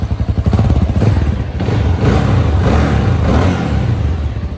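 A new TEKKEN 300 motorcycle engine idling while its idle-adjustment bolt is set, a loud steady close-up putter with some mechanical clatter, alone with no voices.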